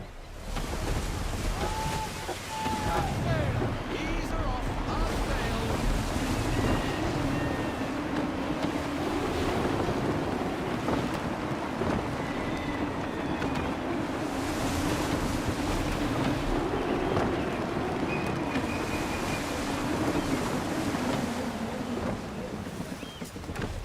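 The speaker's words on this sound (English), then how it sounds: "Wind looks to be shifting. Stay alert, Connor. Gusty winds can be difficult to manage." Gusty wind and rolling sea waves around a sailing ship in Assassin's Creed III Remastered, a continuous roaring wash of surf and wind buffeting, steady and close throughout.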